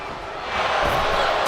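A wrestling arena crowd in WWE 2K24 roars and cheers in a dense, loud, continuous wash that swells slightly partway through.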